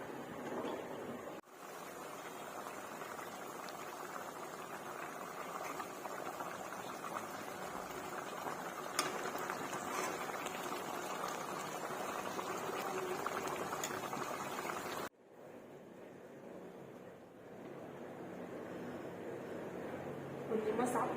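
Liquid boiling in a pot on the stove, a steady bubbling rush that runs almost unbroken, briefly cut and then quieter near the end, while a person talks over it.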